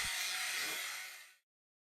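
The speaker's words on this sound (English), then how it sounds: "I'm using a small grinder in my Proxxon motor tool to clean it up." A Proxxon rotary tool fitted with a small grinding bit cleans up metal before silver soldering, giving a steady, close, high-pitched grinding whine that fades out after about a second and a half.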